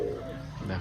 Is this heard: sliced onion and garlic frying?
no